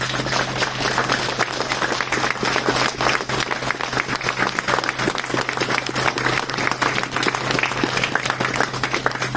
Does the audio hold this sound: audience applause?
yes